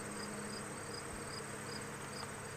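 A steady, dense honey bee hive hum fills the clip, constant and fairly loud with no pauses, the bees droning close by.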